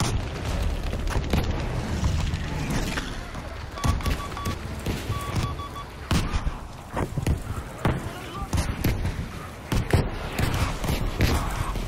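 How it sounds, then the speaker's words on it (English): Artillery shells explode in the Battlefield 5 video game, a string of loud, sharp booms scattered across the stretch amid gunfire and battlefield clatter, with faint voices in the background. "They survived that artillery"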